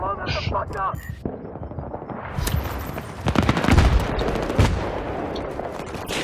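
Shotgun blasts in the first-person shooter Battlefield 3 multiplayer, dense bursts of gunfire mixed with battle noise and someone talking over the action.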